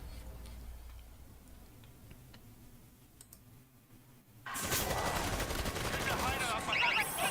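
Gunfire in the zombie shooter video game World War Z starts halfway through as a loud, dense burst of rapid shots and clatter, after a quieter stretch of faint clicks and ticks.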